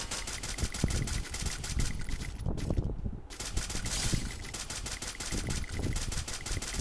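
Rapid automatic gunfire rattles almost continuously in a shooting video game, loud and close, with a brief break of under a second before the bursts resume at full intensity.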